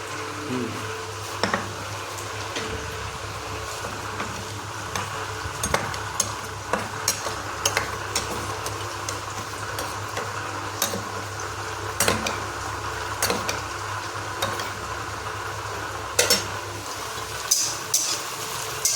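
Onions frying in a pan for bottle gourd curry, a soft steady sizzle under repeated sharp clinks and scrapes of a spatula stirring against the pan, close by and without talk.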